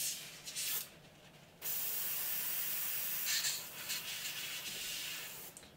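An airbrush blowing straight through during cleaning gives off a steady, close, hissing spray in two bursts, a short one first and then a longer sustained one, with no talking.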